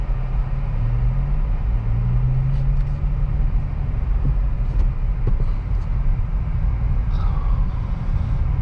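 A 2023 Acura Integra pulling away in first gear, a steady, fairly loud low engine drone and road rumble heard from inside the car, rising slightly in pitch, with a few faint clicks.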